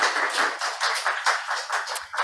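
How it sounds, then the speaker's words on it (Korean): A church training-group audience claps together in a steady, moderately loud round of applause, dense rhythmic hand claps continuing throughout without talk. "박수 한번 부탁드리겠습니다."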